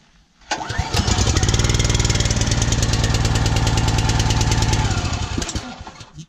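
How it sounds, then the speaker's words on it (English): Kohler engine on a County Line 40 ton log splitter pulling into life after a short pause, then running loud and steady with a rapid chugging beat before cutting off near the end. "These Kohler engines do a good job."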